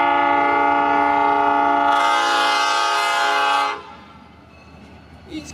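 A freight train's horn blares loud and sustained for nearly four seconds over the rumble of passing rail cars, then cuts off, leaving the quieter rolling clatter of the train going by at slow speed.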